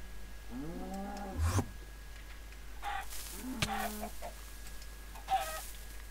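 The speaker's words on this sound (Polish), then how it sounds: "To jest zły kurczak." A Minecraft chicken gives a few clucking calls in a quiet game scene, with short pitched squawks separated by gaps and some soft background game sounds.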